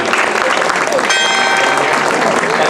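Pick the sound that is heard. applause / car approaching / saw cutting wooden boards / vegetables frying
applause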